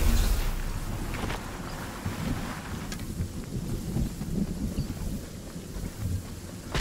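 Storm thunder in the video game Fortnite, a low rumbling roll under windy, rain-like noise that keeps up for several seconds, with a few sharper cracks along the way.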